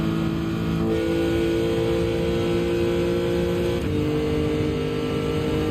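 In a racing video game, a Porsche race car at Spa-Francorchamps drones loudly and steadily at high revs, with a small pitch shift as it changes gear partway through and no voices over it.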